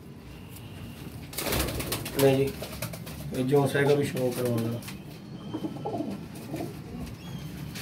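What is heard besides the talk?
pigeons cooing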